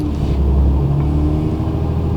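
A Nissan 240SX engine rumbles steadily nearby, with a low droning hum and slight revving rise, loud and continuous with no talk.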